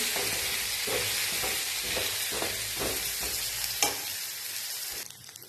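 Drumstick and potato curry vegetables with chilli and turmeric powders sizzle in a hot pan while a utensil scrapes and stirs in a regular rhythm, close up, until the frying fades at the end.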